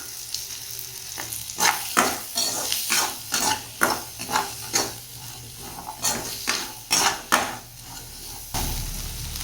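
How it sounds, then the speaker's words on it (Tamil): Ingredients for paneer butter masala sautéed in a pan, a spatula scraping and stirring in a steady rhythm of about a dozen close strokes over a soft continuous sizzle, no talking. "நல்லா வதக்கிக்கோங்க"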